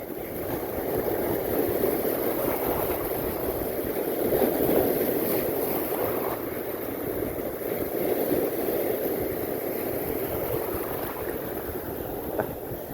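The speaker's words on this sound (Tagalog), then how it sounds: "Ang lakas mga master ng alon." Strong sea waves surging around a small fishing boat in rough monsoon weather, a continuous loud wash of water and wind with rolling swells and no talking.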